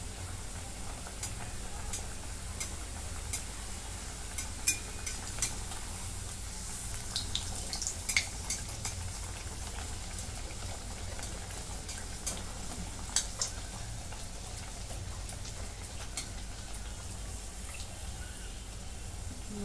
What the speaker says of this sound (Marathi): तेल गरम झालेलं आहे. आता अशी सोडून घेते. आणि इकडून तेल असं त्याच्यावरती ढकलते.